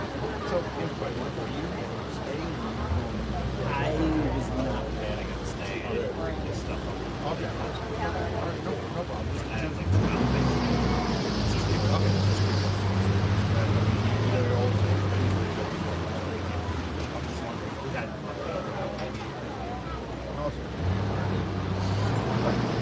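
Road traffic in a jam near a theme park, steady engine hum and rumble from cars and buses all around, with a louder low vehicle drone in the middle; people talk throughout over the traffic.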